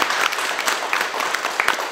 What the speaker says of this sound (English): I'd like you to give these guys a round of applause because they're doing great work.